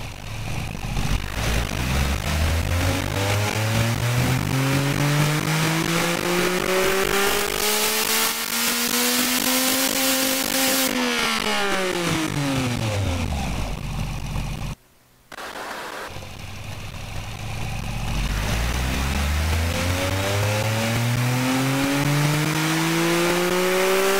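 An 800cc three-cylinder engine in the Automation car game revs loudly and continuously, sweeping up and down through the range in long climbs, with a brief cut near the middle before winding up again.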